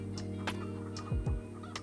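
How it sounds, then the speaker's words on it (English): Chickens in the Farming Simulator 25 video game give a few short, soft clucks over a steady low hum from the game's background. "Well, there's your chicken right there."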